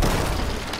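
Ship cannon fire in a pirate naval battle video game: a brief, dense boom with a broad rumbling blast that fills the short moment and ends on a second low thump.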